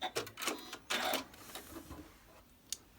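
Sewing machine stitching a seam through a quilt block, short bursts of quick mechanical whirring with brief pauses, close but quiet.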